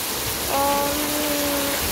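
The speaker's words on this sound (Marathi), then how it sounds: "भरपूर सारा पाऊस पडत आहे" Heavy monsoon rain in the Konkan pours in a dense, steady hiss, with a faint tonal whine drifting briefly through the middle.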